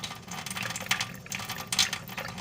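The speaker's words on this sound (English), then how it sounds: "let me turn this water off. It's too noisy." Tap water runs steadily from a faucet outdoors while a small dish is filled as a water source for bees during a drought, a continuous close hiss with faint splashy clinks.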